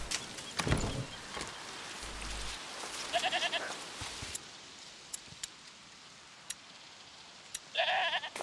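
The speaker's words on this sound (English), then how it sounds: "Is that the goat he talked about?" A goat bleats in A Plague Tale: Requiem, with a few short, quavering cries spaced apart against quiet ambience and scattered soft knocks.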